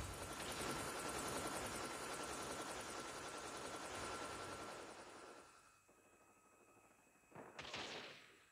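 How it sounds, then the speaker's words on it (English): A hunter-killer drone in the Call of Duty Mobile video game whirs like a helicopter over a dense wash of gunfire. The noise drops away briefly before a short loud burst near the end. "Friendly hunter-killer drone deployed"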